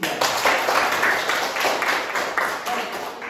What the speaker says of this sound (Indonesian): Sekali lagi kita beri tepuk tangan untuk kelompok